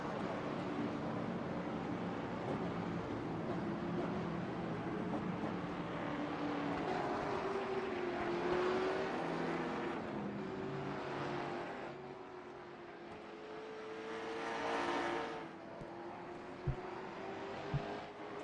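Late model stock cars racing around New Smyrna Speedway, engine drone rising and falling as cars circle past, with a couple of sharp clunks near the end under steady background noise.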